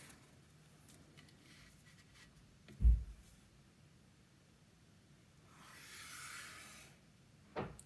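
A pen draws lines on paper for a paper piano craft: quiet scratchy strokes, one soft thump, then a longer drawn stroke near the end, close up and without talk.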